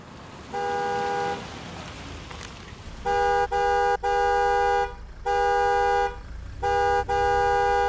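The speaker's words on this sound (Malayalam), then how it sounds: "എത്ര നേരമായി ഹോൺ അടിക്കാൻ തുടങ്ങിയിട്ട്?" A car horn honks repeatedly in a dubbed Malayalam film scene: one long blast, then a run of sustained blasts with brief gaps, loud and close with no talk.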